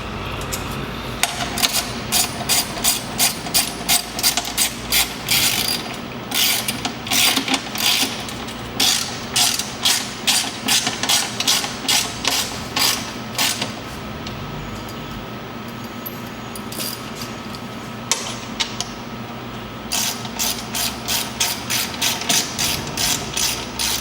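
Ratchet clicking steadily in fast bursts while bolts are tightened on a skid plate being installed on a 2014 Honda Pioneer 700-4 side-by-side, close and loud with brief pauses between runs.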